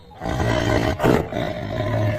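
A tiger roars loudly as a story sound effect, two long, harsh, throaty roars close up with a brief break between them, no speech over it.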